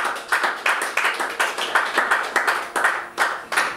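A church congregation clapping in unison to acclaim the Lord, steady rhythmic claps about two to three per second, loud and close, with no one talking.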